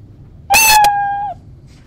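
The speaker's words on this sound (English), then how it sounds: "it waits 10 seconds, and it goes meow" A single cartoonish meow, bright and clear with a steady tone that slides down at the end, standing alone against near silence.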